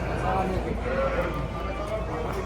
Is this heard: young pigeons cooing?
no